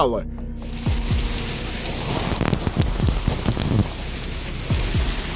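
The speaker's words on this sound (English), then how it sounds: "a massive hailstorm hit the northwestern suburbs of San Antonio, Texas" Massive hailstorm in San Antonio, Texas, with a steady roar of hail and rain hammering surfaces and sharp clattering impacts close by, plus a voice heard over it.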